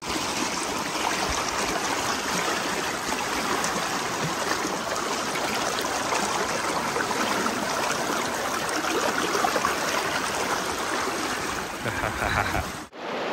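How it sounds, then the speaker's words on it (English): River water rushing over stones while someone wades upstream in a Patagonian river, a steady broadband roar that stays loud and constant throughout, ending with a brief splash or disturbance near the end. "We've been walking upstream in this beautiful river and it is kind of noisy here"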